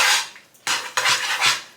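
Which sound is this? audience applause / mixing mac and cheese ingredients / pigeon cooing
mixing mac and cheese ingredients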